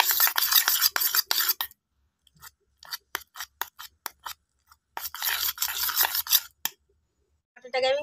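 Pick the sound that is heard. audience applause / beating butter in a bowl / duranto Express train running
beating butter in a bowl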